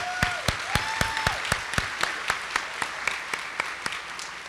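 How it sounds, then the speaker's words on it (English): Audience applause at a community diversity and arts awards celebration, steady clapping from a moderate-sized crowd with sharp individual claps standing out, a short whistle or tone sounding near the start. "Let's give him another round of applause."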